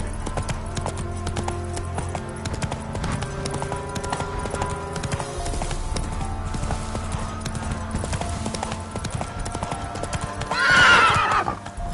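Roach the horse gallops in The Witcher video game, rapid drumming hoofbeats running throughout, capped near the end by a loud neigh.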